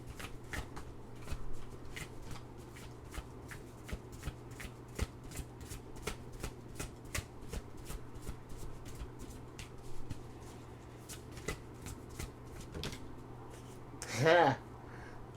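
Oracle cards are shuffled by hand in a long run of crisp riffling taps and flicks, heard close under a low steady hum, with a brief louder rustle near the end.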